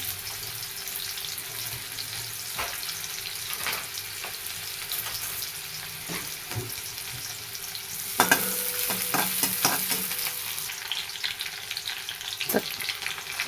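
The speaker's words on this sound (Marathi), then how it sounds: "एक छोटा कांदा होता मी चिरून घेतले त्याला परतून घेऊया चांगलं" A small chopped onion sautéing in oil in a pan gives a steady, close sizzle, with scattered scrapes and taps of stirring that thicken around the middle.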